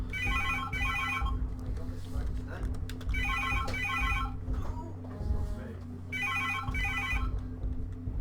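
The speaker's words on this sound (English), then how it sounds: "Oh, there goes the phone." A telephone rings in paired electronic trills, repeating three times at a moderate distance while a person talks over and between the rings.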